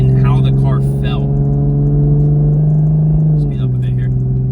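A Toyota Supra MKV engine drones steadily up close, its pitch dropping with a downshift near the end, while someone talks over it inside the car.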